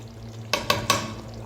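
White mutton karahi simmers in a pot after milk is added, a low steady cooking hiss broken by three quick close stirring scrapes, with no talking.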